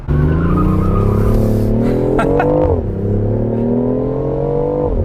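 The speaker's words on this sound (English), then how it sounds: "I U-turned and sort of stepped on it, and it breaks loose a little bit." BMW i8 Roadster engine revving hard as the car pulls out of a U-turn with the rear breaking loose, a loud, steady, rising drone with a brief tire chirp midway.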